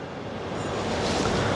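Sea waves on a beach in Hurghada roll in as a broad, steady roar, swelling slightly louder toward the end, with wind buffeting the microphone.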